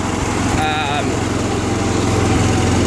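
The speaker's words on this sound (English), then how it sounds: "Now this motor's running" A Kohler K341 16 HP engine runs steadily on a John Deere 210 tractor, a loud close droning putter throughout, with someone speaking briefly over it.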